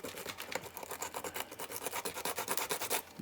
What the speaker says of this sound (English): And just sand it until we get what we want.